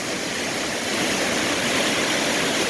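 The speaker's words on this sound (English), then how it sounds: "I'm actually right under the waterfall." Waterfall at Big Pine Lake heard from right below it, a loud, steady, broadband roar of falling water filling the whole stretch without any voices.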